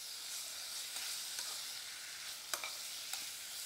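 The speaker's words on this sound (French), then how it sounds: "Je remue le tout bien. Vite aussi." Beef seared in a hot pan while being stirred quickly, a soft continuous sizzle with light scraping strokes and a couple of sharper utensil clicks near the end, no talking.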